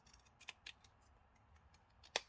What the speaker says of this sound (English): I'm going to cut it down though because it's a little bit too big.